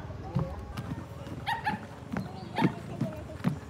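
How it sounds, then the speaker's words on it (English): A dog barks several times in the distance, short irregular yips heard faintly outdoors in Sapa amid background noise and some talk. "Hear that dog?"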